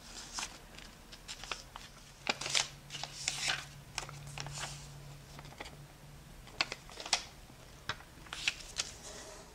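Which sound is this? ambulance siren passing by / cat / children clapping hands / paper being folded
paper being folded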